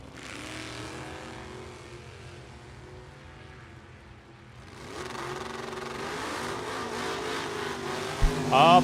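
Bracket drag race with a Ford Pinto and a Duster at the U.S. Bracket Nationals, distant engine drone building into a louder roar as the cars launch and accelerate, with crowd ambience.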